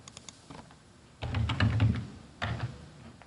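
A computer keyboard being typed on up close, with a short burst of clattering keystrokes, a brief pause and then a few more taps, heard alone without voices.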